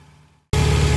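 A Ford Capri XR2 engine catches and settles into a loud, steady idle, abruptly replacing a quiet low hum of near silence.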